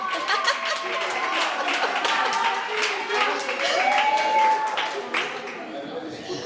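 An audience gives a round of applause with scattered laughter, and the clapping is dense at first, then thins toward the end while voices chatter over it.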